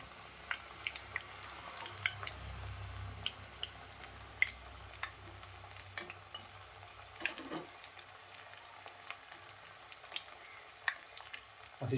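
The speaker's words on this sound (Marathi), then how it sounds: "छान असे तांबूस होईपर्यंत तळून घ्यायचे" Methi (fenugreek leaf) vadas deep-fry in oil, giving a faint, steady sizzle with scattered small crackles and ticks.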